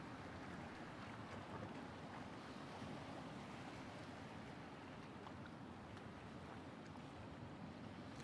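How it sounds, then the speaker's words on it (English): A ferry in the European Ship Simulator game charges through the sea at over 18 knots on a Calais to Dover crossing, a steady, faint wash of water and wind noise with no talk. "our ship is charging through the water at 18 plus knots"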